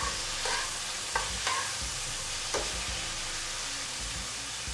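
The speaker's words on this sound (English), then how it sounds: "So we can go ahead and add a little bit of soy sauce to our pan." Soy sauce sizzles in a hot pan while cauliflower steaks and green beans cook, a steady close frying hiss broken by a few stirring scrapes.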